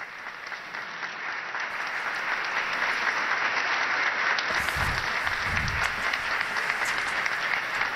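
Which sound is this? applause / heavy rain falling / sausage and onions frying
applause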